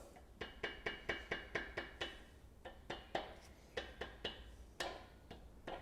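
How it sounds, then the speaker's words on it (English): A rubber mallet taps engine bearing caps onto a bare V8 block of a supercharged Alpina B7, landing a quick run of about seven evenly spaced knocks, then a few irregular, slightly louder blows, close and alone. "Rubber mallet."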